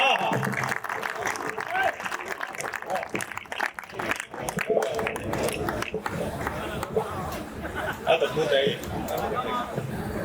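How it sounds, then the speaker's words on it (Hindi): Audience applause greeting a young poet walking onto the stage at a Hindi poetry recital, steady clapping and crowd chatter running the whole way through. "एक बार जोरदार तालियों के साथ इसका स्वागत कीजिए"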